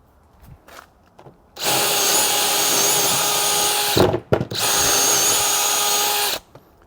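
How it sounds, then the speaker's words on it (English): A DeWALT brushless drill bores into wood at its highest speed and torque, whining loud and close in two sustained bursts split by a brief pause. "I'm going to use the highest speed with the highest torque."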